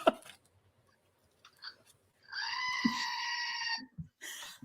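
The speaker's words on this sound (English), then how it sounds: "A goat." A goat bleats once in a strong, wavering, drawn-out call lasting over a second, framed by faint rustles and small clicks before and after.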